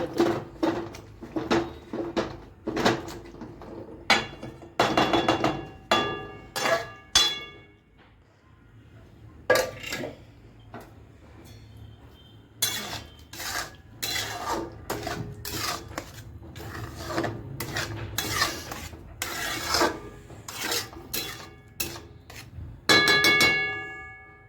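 Pav bhaji vegetables being mashed in a metal pan with a masher, a string of sharp clanking metal knocks in bursts, close and loud, with a quieter scraping stretch between them.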